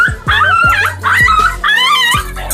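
A dog yelps and whimpers in a string of sharp, high cries after a rooster jumps on it. Roughly five close, loud yelps come in quick succession with brief gaps between them.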